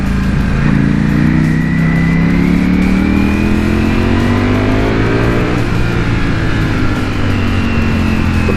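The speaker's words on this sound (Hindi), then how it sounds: "इस पर एग्जॉस्ट जैसे ही लग जाता है तो ये काफ़ी लाउड और काफ़ी एग्रेसिव हो जाती है।" A Ducati Panigale V4 with its stock exhaust, ridden in third gear at moderate revs, gives a loud, close, continuous engine drone whose pitch climbs smoothly as the bike accelerates, with no talking.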